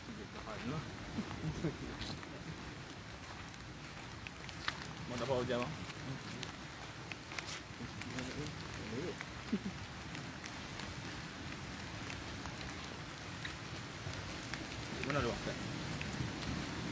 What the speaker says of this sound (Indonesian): Hujan boleh tahan ni.